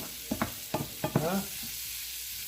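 Ginisang snow peas (chicharo) with sotanghon noodles stirred in a frying pan, a few quick scraping strokes over a steady soft sizzle, close by, with a brief voice at the start.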